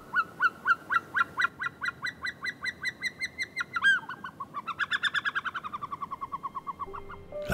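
Caspian snowcocks call across the Lesser Caucasus mountains, a loud run of rhythmic, rising whistled notes that builds into a rapid crescendo of overlapping calls from several birds, with no talk.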